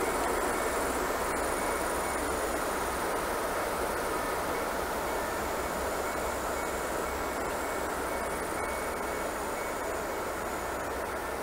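A locomotive slowly pushes a split tank wagon train back together at a station, heard as a steady, low, distant rumble and hiss with faint high insect chirping over it.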